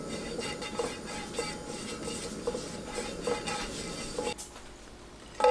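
Beaten eggs with milk and a little pepper are stirred in a bowl: a steady, close swishing with light, irregular clinks of the utensil against the rim, fading near the end.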